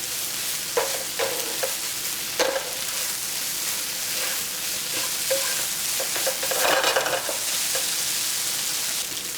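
Tofu scramble with vegetables browns in a pan, a constant frying sizzle broken by repeated scraping and clacking stirs of a utensil against the pan, close and clear.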